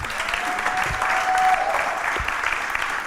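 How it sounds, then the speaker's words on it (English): A roomful of people at a community district meeting applauds loudly and steadily for about three seconds, a dense wash of claps with no talk over it. "they're clapping so loudly"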